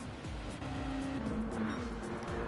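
GT500 race cars in a racing video game run nose to tail in a three-way slipstream into turn 1 at Fuji, loud layered engine drone with shifting tones and a thin tire squeal.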